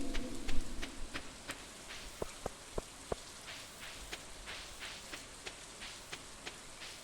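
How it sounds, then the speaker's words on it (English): Rain in the Stardew Valley video game: a faint, steady hiss of falling rain, dotted with sharp, regular ticks throughout, no voices. "Since it's raining."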